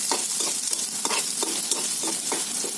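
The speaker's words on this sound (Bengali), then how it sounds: "একটু ব্রাউন করে হবে, হলে পরে মশলাটা দিয়ে সুন্দর করে কষে নেব" Chicken browning and frying with masala in a pan, a constant sizzle broken by regular scraping strokes of a spatula stirring, close and loud.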